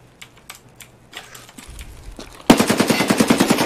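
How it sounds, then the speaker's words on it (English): Rapid sniper and automatic gunfire from a scav in Escape from Tarkov: a few sparse clicks and shots, then a loud, steady burst of repeated gunshots in the last second and a half. "I hear scav shooting. It's scav sniper."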